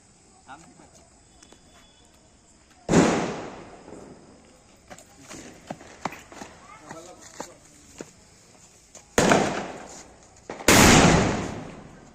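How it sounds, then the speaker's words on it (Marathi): Firecrackers set off outdoors during a Tulsi Vivah celebration: a loud bang near the start, then quieter crackling and small pops, followed by two more sharp explosive blasts near the end, with faint voices and insects chirping in between. "आता मी फटाका फोडणार"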